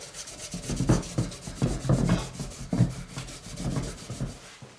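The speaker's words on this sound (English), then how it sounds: "giving that a clean up because it obviously has a greasy film on it" A greasy film is rubbed off a KLR650 motorcycle part by hand, making close, rhythmic scrubbing strokes that swell and fade in repeated bursts at moderate loudness, with no talking.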